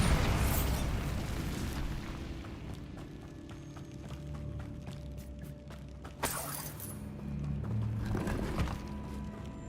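A Bombarda spell cast in Hogwarts Legacy bursts with a sharp, crackling explosion midway through, set against a quieter rumbling game ambience with scattered pops and debris-like shatters.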